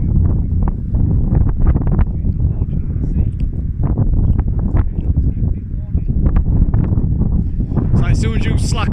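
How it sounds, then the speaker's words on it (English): Strong wind buffets the microphone during kite practice outdoors, a constant rough rumble while people talk throughout. "This is where wind's getting strong"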